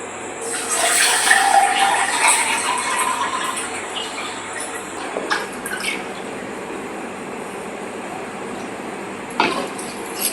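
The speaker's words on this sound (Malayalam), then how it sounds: "എന്നിട്ടിങ്ങനെ വെള്ളം കൊടുക്കണം." Water pours into a glass holding sugar, a bright splashing trickle that swells early on and then thins into gentle running and dripping sounds, with a few small clinks near the end.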